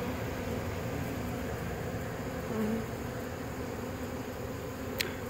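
A swarm of honey bees drones in a steady, dense buzz outdoors, moderately loud and continuous, with individual insects passing near the microphone.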